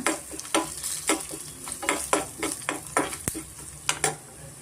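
Spices frying in a little oil for obbattu saaru, a lentil broth, produce a bright, continuous sizzle with frequent spatula strokes and clinks against the pan, close and fairly loud.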